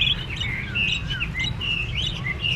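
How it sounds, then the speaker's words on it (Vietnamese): A small caged bird at a Hanoi bird market chirps steadily over and over, bright short tweets and trills close by with a low rumble underneath. "Con chim mũ vịt tên là gì ấy?"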